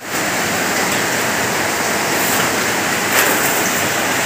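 Rushing floodwater from a swollen river in Montalban, Rizal, during Typhoon Carina, a loud, continuous broadband roar close by, steady throughout with a brief surge near the end and no talking.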